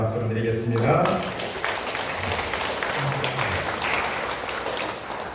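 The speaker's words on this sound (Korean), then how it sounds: "감사의 박수를 드리겠습니다" A church congregation applauding in thanks after worship songs, a broad wash of clapping that begins as sung or sustained voices fade, with some voices heard over it.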